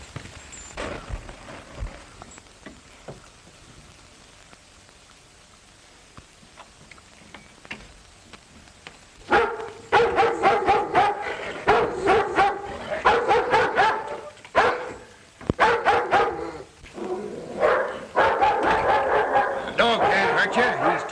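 A tied dog barks in loud, rapid bursts close by after a quieter stretch, with yips and whimpers between volleys and voices talking around it.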